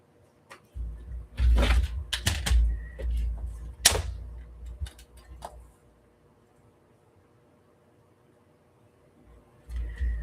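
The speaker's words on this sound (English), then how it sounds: "So what I'm going to do is I'm going to cut a strip of this." Scissors cut a half-inch strip of paper for a handmade single-signature journal: a quiet cluster of close, crisp snips and paper rustles that trails off into near silence.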